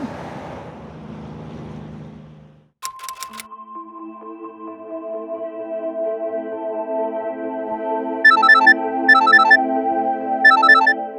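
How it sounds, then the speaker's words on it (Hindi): A mobile phone rings with a sustained melodic ringtone that follows a burst of hissy noise, then repeated chiming beep accents sound over the melody, fairly loud and close, with no voices. "अरे बार बार कितनी बार फोन करेगा यार।"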